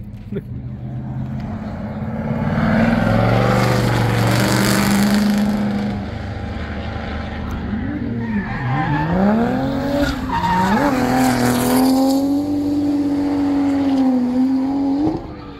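A race car drifts nearby during Formula Drift testing at Laguna Seca Raceway, with long, wavering tire squeals rising and falling over a revving engine, loud and continuous, with voices talking underneath.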